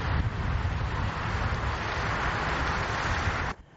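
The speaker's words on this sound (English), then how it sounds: "its destructive winds began battering the town." Strong, steady cyclone winds roar and buffet the microphone continuously in the coastal town of Bowen, Queensland, a loud broadband rush that cuts off abruptly near the end.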